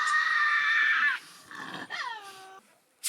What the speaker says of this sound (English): When threatened, this stocky marsupial is prone to bare its sharp teeth, lunge and growl.